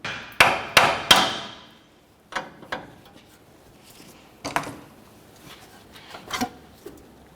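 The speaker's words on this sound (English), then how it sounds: "I'll just use the hammer, bonk on the knuckle here a little bit until it finally breaks free." Three sharp metallic hammer blows in quick succession on a Ford Explorer Sport Trac steering knuckle, then scattered lighter knocks and taps on metal, close by with no talking.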